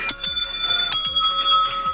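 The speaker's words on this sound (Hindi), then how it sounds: "ये घंटियाँ जो बंदी हैं सब मन्नत की घंटियाँ हैं" Small metal wish bells tied at a village hilltop temple ring in a few quick bright strikes, clear ringing tones overlapping and decaying close by, with no voices.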